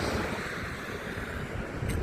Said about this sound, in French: Oh là là, ce vent, putain.